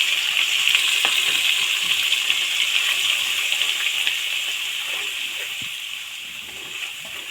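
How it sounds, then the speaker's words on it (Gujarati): Gravy hits a hot pan of red chili powder for matar paneer, setting off a loud, close, continuous frying sizzle that eases slightly toward the end, with no voices. "લાલ મરચું પાવડર નાખ્યા પછી આપણે છે ને તાત્કાલિક ગ્રેવીને નાખી દઈશું જેથી કલર સારો આવે આપણી ગ્રેવીનો"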